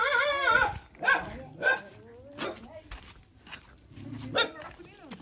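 A dog at home barks and yips in several short, close bursts spaced irregularly, with some whimpering, while people talk nearby.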